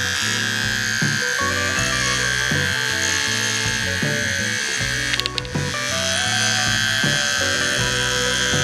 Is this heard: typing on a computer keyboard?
no